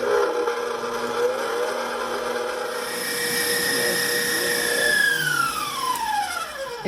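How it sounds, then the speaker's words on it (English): An electric mixer whips a butter mixture steadily, a continuous whirring hum with tones that slowly rise and fall as the mixture thickens, close and constant throughout. "I'm gonna whip it for 5 or so minutes until I get a nice thick shaving cream type texture"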